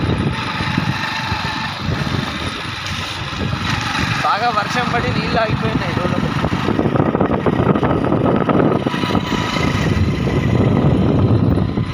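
A motorcycle engine drones steadily while riding, its broad rumble running under almost continuous talk from the rider throughout.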